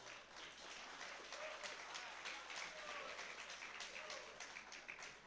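Crowd at an IMMAF European Championship 2018 junior welterweight MMA quarter-final applauding both fighters, steady broadband clapping and cheering that fills the hall for the whole stretch, with no talk over it.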